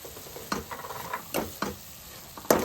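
Poha sweet with coconut, jaggery and cardamom powder cooks on a stove while being stirred. A handful of sharp, uneven scraping strokes rise over a low bubbling sizzle, near and quiet, with no talking.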